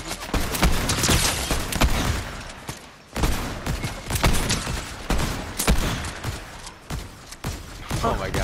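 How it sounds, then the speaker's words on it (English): Gunfire in a squad shooter game: rapid, dense volleys of shots crackle almost continuously, with short pauses between bursts, loud and close over a busy battle backdrop. "They're still shooting back."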